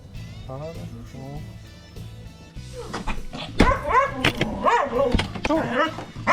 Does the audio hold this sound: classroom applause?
no